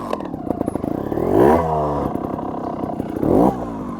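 A trials motorcycle's engine revs up twice in quick bursts, rising in pitch each time, over a steady mid-range idle with a light mechanical clatter; loud and close, no voices.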